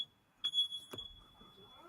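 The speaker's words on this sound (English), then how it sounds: "That seemed like a fire alarm." A smoke detector fire alarm in a house gives a faint, thin steady high tone, overlaid by a couple of soft clicks and taps, quiet and somewhat distant.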